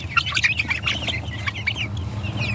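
Young chickens at a hatchery cluck and peep in a busy overlapping chorus, close and steady throughout with no talking.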